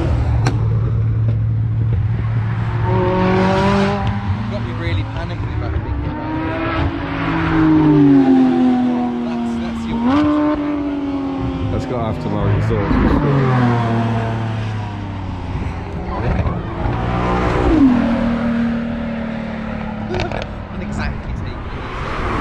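A powerful car engine revs and climbs through the gears, loud and close, with people talking over it, at Supercarfest 2021 at Shelsley Walsh.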